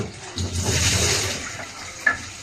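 Water pours and splashes into a container while dried ribbonfish (churi shutki) is washed for cooking, a swelling rush that fades, then a brief sharp clatter near the end.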